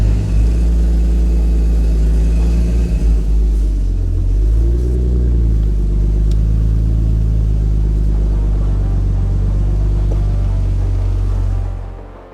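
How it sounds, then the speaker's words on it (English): Nissan R33 Skyline engine running steadily, a loud deep rumble with a slight rise and fall in revs and a metallic exhaust rattle buzzing beneath it, heard up close with no talking. "We've got a bit of an exhaust rattle down there."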